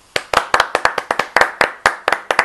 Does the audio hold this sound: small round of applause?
yes